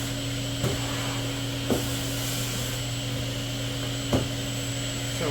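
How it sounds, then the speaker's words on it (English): A static-dissipating shop vacuum with a wire-reinforced rubber hose, hooked up to an Onefinity CNC, runs with a steady, loud, even drone, and a few faint clicks or knocks fall over the hum. "this is essentially a static dissipating vacuum"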